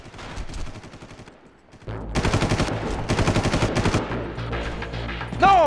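Bursts of automatic machine-gun fire in the video game Far Cry, loud and close, with sustained rapid rattling after a brief quieter lead-in, and no speech over it.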